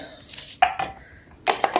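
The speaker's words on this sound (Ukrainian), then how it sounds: "Перебиваємо в блендері." A blender whirs in short bursts chopping onions, stopping and starting several times, its motor loud and close with a choppy, grinding texture.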